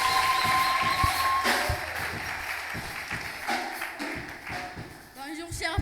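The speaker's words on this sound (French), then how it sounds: "Nous les encourageons avec les acclamations quand même." A church congregation applauds during a Sunday worship service, with scattered, uneven claps and taps rising and falling over several seconds at moderate loudness, fairly close.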